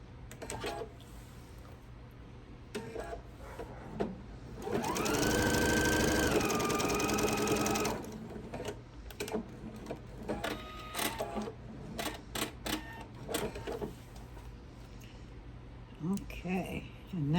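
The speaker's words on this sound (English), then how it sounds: "I'm going to sew down just from that little corner down to that end so that I don't have that open" A sewing machine stitches an apron seam in one steady, loud, close whirring run lasting a few seconds, framed by quieter handling clicks and rustles.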